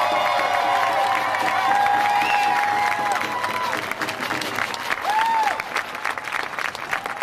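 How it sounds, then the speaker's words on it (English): A crowd at an outdoor anti-war rally in Seattle applauds and cheers, dense continuous clapping with rising shouts and whoops, loud and sustained throughout. "Let's give Ed Asner another round of applause."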